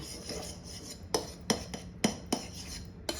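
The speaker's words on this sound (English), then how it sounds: "So we're just gonna mix a little bit more." Cream cheese Danish batter being mixed in a bowl, a soft rubbing hum punctuated by about seven sharp clinks of a utensil against the bowl at irregular intervals, quiet and close.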